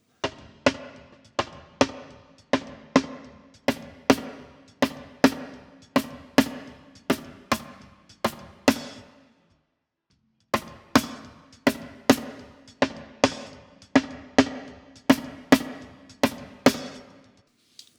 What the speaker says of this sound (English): let's have a listen to just a snare without the trigger, and then I will blend in just a tiny bit of the trigger.